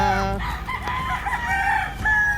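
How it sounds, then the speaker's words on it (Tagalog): A roundhead gamecock stag, a local-born fighting bird, crows in a long strained cock-a-doodle-doo, close and loud over steady background noise. "So, napakagandang manok nito."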